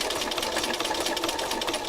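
A sewing machine stitches in a short burst of steady, rapid mechanical chatter, close and fairly loud, with no speech over it.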